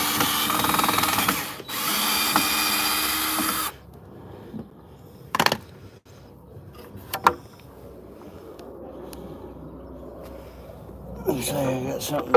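A power drill whirs loudly for a few seconds, then falls silent; scattered clunks and handling noises follow, with a short drill burst at the end.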